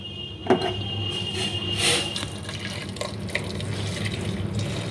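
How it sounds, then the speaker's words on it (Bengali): Hot water poured into a pressure cooker holding chicken pieces for a thin chicken curry, a steady splashing, running flow with a few sharper splashes, close by and fairly loud, with no talking. "এবার আমি এতে জল দিয়ে দেবো"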